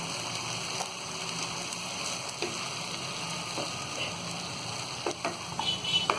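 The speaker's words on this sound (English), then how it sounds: "the pre-cooked pasta we will add in this saucepan." Pre-cooked pasta sizzles in a hot saucepan, a steady close crackling hiss with occasional light clicks and stirring taps growing busier toward the end.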